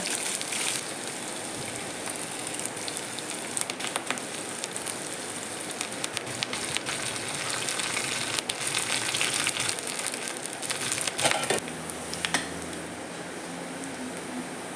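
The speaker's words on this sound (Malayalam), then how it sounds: "ലേശം ചെറിയുള്ളിയോ കരിവേപ്പിൻ്റെ ഇലയൊക്കെ ഇട്ട് ഞാൻ തൂമിച്ച് കൊടുക്കട്ടെ" Shallots and curry leaves hit hot oil for a tempering, giving a steady, dense close-up sizzle and crackle that holds for the whole stretch without pause.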